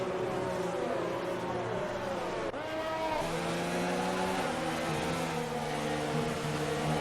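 Red Bull Formula 1 car heard onboard in a racing video game, its engine whining loudly and continuously with rising and falling pitch through gear changes, a brief dip midway, no voices.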